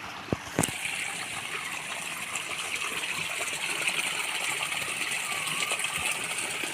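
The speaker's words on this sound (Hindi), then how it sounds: "यहाँ कहीं झरने की आवाज़ आ रही है" Steady rushing water from a small waterfall, a constant broadband hiss filling the scene, with a couple of sharp knocks near the start.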